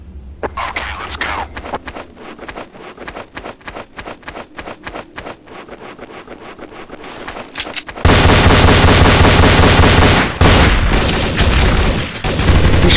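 Rapid gunfire from Counter-Strike: Source on the Militia and Dust 2 maps, a run of sharp shots through the first half, then a loud, dense, sustained barrage of automatic fire at close range, with some talk underneath.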